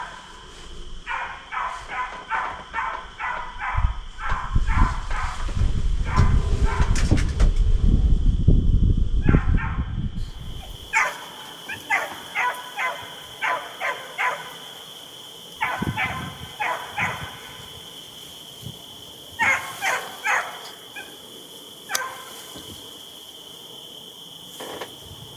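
A hunting dog on a deer hunt barks in repeated short bursts from a moderate distance, with insects trilling steadily behind and a loud rustling burst early on, the barking spaced irregularly throughout.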